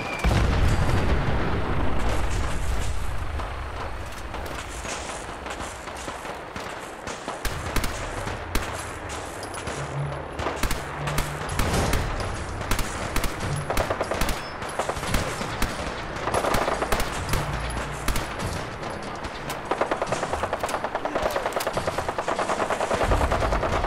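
Dense gunfire rattles through a Fallout 4 firefight, with rapid automatic bursts and single shots crowding each other continuously, loud and close with no talking.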